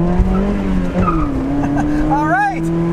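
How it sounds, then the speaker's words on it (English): A 2001 Mazda MX-5 Miata (NB2) accelerates hard around a corner on an uphill grade, its engine droning loudly up close from inside as the tires give a brief rising squeal near the end. "wanted to kick the back end out there a little bit as I was accelerating around a corner"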